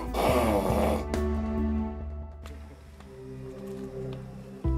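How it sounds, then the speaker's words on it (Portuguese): A large man snores while sleeping: one loud, rough snore up front, then a quieter drawn-out breath with a soft snort near the end, heard close and without talk. "E ronca descontroladamente."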